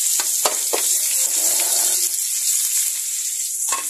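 Garlic and onion sautéing in a hot pan, a loud, close, steady sizzle with a few sharp crackles and stirring scrapes, no voice.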